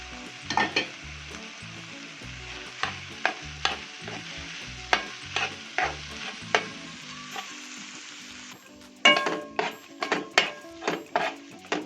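Liver, gizzards and spices frying in a pan for a pigeon dish, with loud sizzling and repeated sharp stirring scrapes at a steady rhythm, close up; the sizzle briefly drops near the end before stirring resumes.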